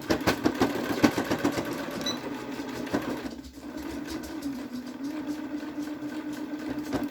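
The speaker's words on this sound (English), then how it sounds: "You're going to sew from edge to edge" A sewing machine runs in fast rattling bursts as it stitches a fabric pocket mask edge to edge, pausing briefly midway before resuming a steady, close mechanical whir, with no talking.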